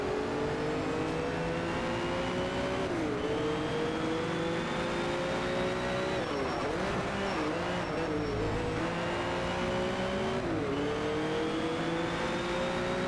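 Race cars, including Porsches, in Need for Speed Shift 2 engines droning steadily with repeated rising revs and gear-shift dips, close and continuous, without talk.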